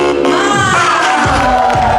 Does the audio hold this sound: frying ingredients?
no